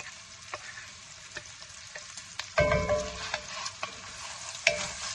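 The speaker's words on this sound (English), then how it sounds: "from the pancetta, and you have your olive oil, it's browning up, and I'm going to put in my onion" Onion and pancetta frying in browning olive oil, a steady quiet sizzle with scattered clicks of stirring, then a louder burst of crackling as more goes into the hot pan, with no talking.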